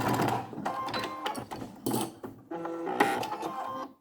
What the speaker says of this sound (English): backstitch just to get the bulk of it stitched down